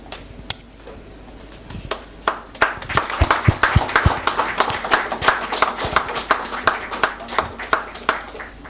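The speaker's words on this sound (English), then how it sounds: "Please, round of applause" Audience applause at an industry-academia launch event, starting with a few scattered claps and building into dense, fairly loud clapping from a crowd with some prominent nearby hands.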